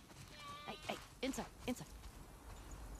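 Sheep bleat in The Last of Us Part II, a few wavering calls close by, one long quavering bleat followed by shorter ones, over a faint ambient background.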